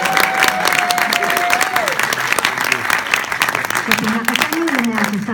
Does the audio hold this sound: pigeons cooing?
no